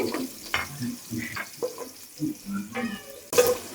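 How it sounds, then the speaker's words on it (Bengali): Onions frying in a pan at home while chicken biryani is being made, a soft sizzle with light stirring and faint talk over it, ending in a brief louder burst. "দেখেন পেঁয়াজটা ভাজা ভাজা হয়ে গেছে"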